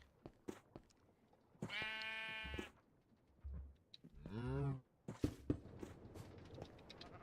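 Two loud, wavering sheep bleats ring out close by, the first long and steady, the second rising and falling, with scattered clicks and knocks around them in an outdoor game scene.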